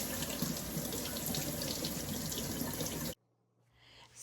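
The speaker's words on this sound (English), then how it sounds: "wash your pineapples in cool water." Steady rush of cool tap water running over fresh pineapples at a kitchen sink, loud and close, cutting off abruptly near the end to near silence before a faint return.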